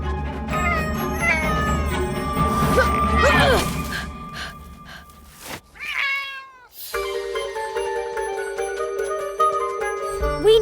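An angry cartoon cat yowls and meows in drawn-out, wavering cries amid busy animated sound effects and music, with a sudden rising screech partway through.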